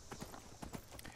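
Shadowmere, a horse in Skyrim, trots with quick clip-clopping hoofbeats, a brisk run of close, distinct thuds over a short stretch, quiet in level and without speech.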